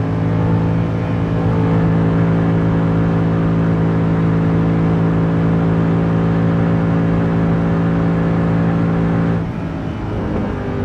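A Mercedes C63 engine revs hard in third gear toward 7,000 rpm, a loud, steady, continuous roar with strong harmonic drone throughout, easing slightly near the end.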